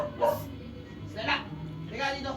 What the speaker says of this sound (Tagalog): Galit na sila guys. Ingay ng aso nila.